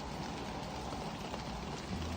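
Steady rain falls in a dense, even hiss, with no voices, a constant patter that neither builds nor fades.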